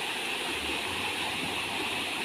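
A flooded river rushes past in a steady, loud, broadband roar of flowing water, continuous and close, with no talk over it.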